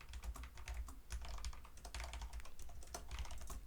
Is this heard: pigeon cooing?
no